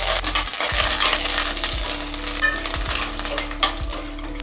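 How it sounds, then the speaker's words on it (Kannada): Chana dal, urad dal, peanuts and curry leaves frying in hot oil for coconut rice chitranna, a steady close sizzle broken by several stirring scrapes and clinks of a spoon against the pan, with no talking. "ಕಡಲೆಬೇಳೆ, ಉದ್ದಿನಬೇಳೆ, ಕಡಲೆಕಾಯಿ ಬೀಜ, ಕರಿಬೇವು ಹಾಕ್ಕೊತಿದ್ದೀನಿ."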